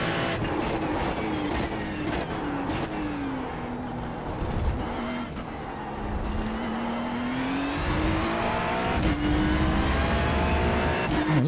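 A race car at speed around Monza, heard onboard as a loud continuous engine whine that rises and falls with gear changes and braking, punctuated by sharp upshift cuts.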